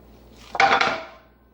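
Ground pork being worked with spices, salt and pepper in a bowl: a short burst of clinking and scraping against the dish, rising and fading within about a second, with no voices.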